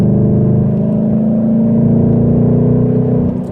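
A 2018 Mustang GT with a Roush axle-back exhaust drones loudly and steadily near the microphone, a sustained deep, throaty rumble that eases off slightly at the very end.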